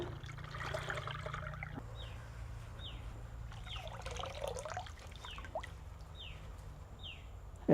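Sugarcane honey being strained through a sieve in a rural kitchen, a faint continuous trickle and dribble of thick liquid with light scraping and a few soft clinks.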